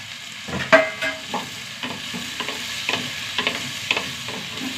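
Okra fries with softened onion, oil sizzling steadily in a pan while a spoon stirs and scrapes in irregular strokes, close by, with no voices.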